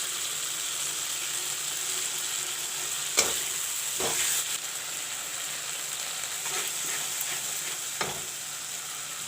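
Methi saag sizzling and frying in a pan, a constant high hiss of hot oil with a few sharp scraping stirs and clinks of a utensil breaking through at intervals.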